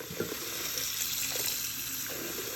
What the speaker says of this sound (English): And then we're just gonna cover this with water.